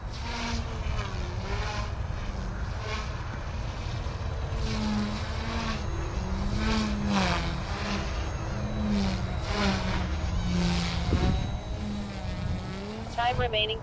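An RC helicopter at full head speed in idle up 2, a loud continuous whine with a wavering pitch as it flies, and a voice speaking over it.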